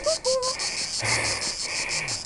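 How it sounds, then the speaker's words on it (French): Cicadas buzz in a steady, pulsing insect chorus near the seaside, loud and continuous throughout, with a few faint bird-like whistles early on and no talking. "Avec les cigales, c'est pas mal, non?"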